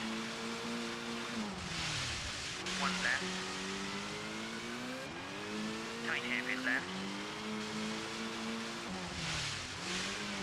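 A rally car engine in Colin McRae Rally on the Acropolis Rally gravel stage, revving and shifting through gears in repeated rising sweeps, loud and close, with someone commentating over it.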